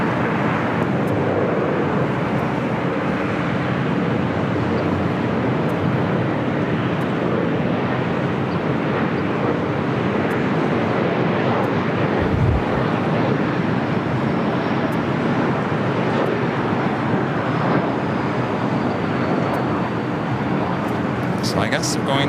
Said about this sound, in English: wait until Korean Air Cargo Flight 9207 coming in from Seoul touches down